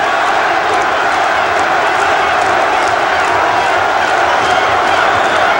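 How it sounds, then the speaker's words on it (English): Boxing arena crowd at a Larry Holmes versus Ray Mercer fight, a dense steady roar of many voices chanting and cheering for Holmes, sustained and loud throughout with no clear breaks. "the crowd starts up with Larry once again"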